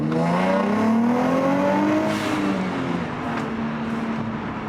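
A Nissan Z V6 with an upgraded exhaust revs up, its raspy engine note climbing steadily in pitch for a couple of seconds before easing off into a smoother drone, loud and close with no talking.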